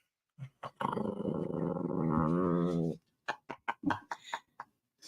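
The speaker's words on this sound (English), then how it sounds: "That's the puppy purrs." A puppy gives a low, rumbling growl-purr lasting a couple of seconds, close and fairly loud, followed by a run of short snuffling or vocal bursts.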